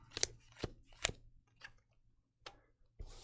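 Castle keep cards from the board game 20 Strong: Tanglewoods are shuffled and dealt, giving a handful of sharp, separate snaps and flicks on a tabletop with quiet gaps between them.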